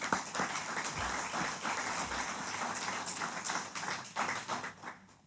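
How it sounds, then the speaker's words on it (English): Light, scattered applause from a modest audience at a jewelry industry awards event, a soft patter of claps continuing for several seconds before tapering off. "let's give her a round of applause as well"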